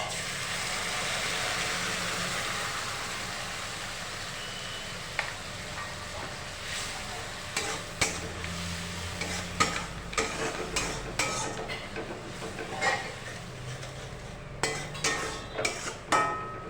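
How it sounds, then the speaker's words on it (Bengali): Mustard and green chili paste fries in hot oil while a utensil stirs and scrapes the pan, making a soft sizzle with a series of close, sharp scraping clicks that grows busier toward the end. "আমরা দিয়ে দিচ্ছি এর মধ্যে সর্ষে আর কাঁচা লঙ্কা বাটার পেস্টটা"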